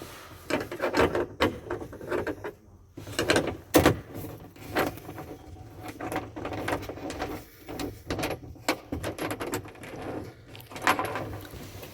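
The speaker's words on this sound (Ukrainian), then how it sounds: "Лічинка дістається наружу." Metal lock cylinder being pulled out of the lock mechanism of a Terra Drive car roof storage box, with close scraping, rubbing and clicking of metal against the housing in irregular bursts, and no talking.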